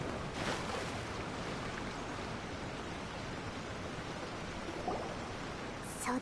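A waterfall in the Genshin Impact video game rushes as a steady, broad hiss of falling water, constant and moderately distant throughout, with a brief brighter splash near the end.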